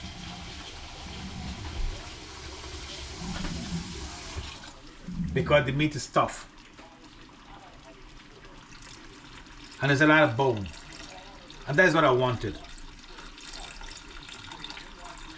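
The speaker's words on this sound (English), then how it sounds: "So I'm adding water." Someone talks over a running faucet, then splashing pours of water into a curry pot come in short bursts between his words.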